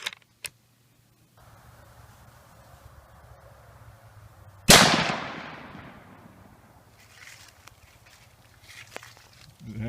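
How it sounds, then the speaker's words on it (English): A single sharp rifle shot from a Tikka T3 in .243 cracks loudly near the middle and rings out in a decaying tail, preceded by faint handling clicks and quiet outdoor ambience. "take some shots with the Tikka 243"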